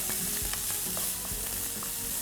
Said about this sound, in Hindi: और अब इसमें हम डालेंगे थोड़े से येलो पेपर्स और रेड पेपर्स. अच्छे से मिला लीजिए.